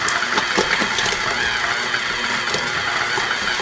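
A stand mixer motor runs steadily while folding chocolate chips into cookie dough, a loud constant mechanical whir up close with faint rattling ticks, no talking.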